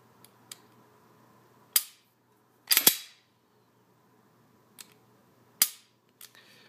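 Sharp mechanical clicks from an ATEi M&P9 9mm pistol as the trigger resets, several isolated snaps spaced a second or so apart, close and crisp against near silence.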